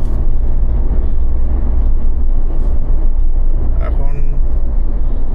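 A car cruises along a highway on a road trip from Kolkata to Siliguri, a steady low engine and road rumble filling the cabin while a person talks over it.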